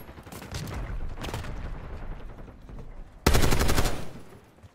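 Gunfire in the video game Black Ops 6: rapid automatic bursts at a moderate distance, then a louder close sustained burst near the end.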